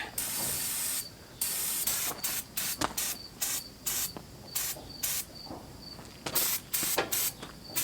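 Repeated bursts of brake cleaner from an aerosol can hiss in short, irregular blasts with brief gaps between them, close and fairly loud, over a faint high buzz of wasps.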